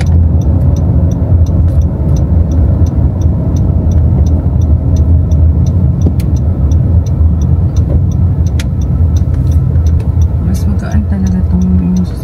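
A car driving on American roads, with a steady engine and road hum filling the cabin and an even, rhythmic ticking running throughout, while faint voices talk underneath.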